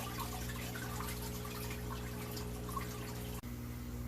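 Fresh water pours into an aquarium as a soft, continuous trickle over a low steady hum, quiet and close, ending with a brief knock.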